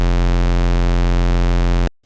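A Moog synthesizer holds a steady square-wave note on low F1, loud and sustained with a dense stack of even harmonics, then cuts off abruptly into silence near the end.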